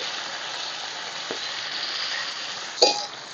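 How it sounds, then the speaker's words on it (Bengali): Chopped onion sizzles in hot oil with bay leaves and whole garam masala for a chicken curry, a steady close crackle broken by a short louder burst as the pan is stirred. "দিয়ে দিচ্ছি পেঁয়াজ কুচি।"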